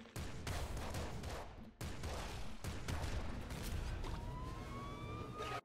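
Heavy explosive weapon fire in Nuclear Throne, a super heavy grenade launcher, rings out as a loud, dense barrage of blasts with short gaps, then a rising whistling tone near the end, with no talk.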